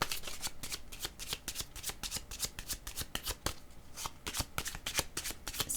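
A deck of tarot cards being shuffled by hand, with close, dense riffling bursts repeating in quick succession throughout and no voices.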